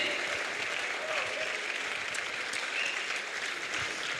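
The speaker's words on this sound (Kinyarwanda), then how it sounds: "a round of applause to Jesus for them" Steady applause from a large crowd fills the clip, a dense wash of clapping holding at even loudness throughout without pause.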